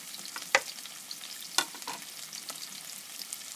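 Chopped onions with green chillies stirred and frying in a hot pan over high flame for an aloo baingan curry, a steady soft sizzle broken by two sharp scraping clinks of the spoon, no voices.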